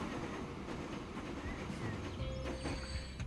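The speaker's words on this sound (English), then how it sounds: "And the train has dropped off and picked up." A freight train in the rail-transport game Transport Fever 2 rumbles along near an oil refinery, a low continuous rolling noise with faint metallic clicks and tones, heard alone without voices.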